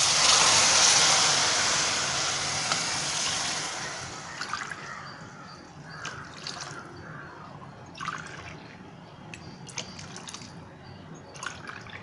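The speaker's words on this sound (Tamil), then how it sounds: "இப்போ இந்த கிளாஸால் நான் தண்ணி ஊற்றுறேன்." Water poured from a glass into a pan flows steadily at first in a loud, continuous splashing stream, then tapers into scattered drips and small splashes close by.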